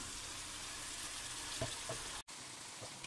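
Vegetables and sauce frying and sizzling in a pan for homemade spaghetti with soy sauce and tomato ketchup, a steady close crackling hiss throughout, with a brief cut in the sound partway through.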